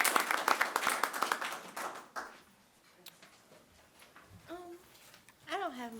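An audience at a school board of education meeting claps for a student award recipient, dense loud applause that thins and fades into a quieter room with a few scattered claps, then a voice begins speaking.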